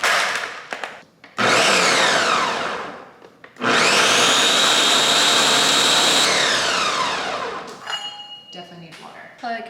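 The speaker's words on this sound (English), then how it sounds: "I'm gonna put 1 cup in the blender," A countertop blender whirs through a cup of blueberries in two long, loud bursts separated by a short pause. Clinks of the jar and handling are heard between the runs, and a little talk comes in near the end.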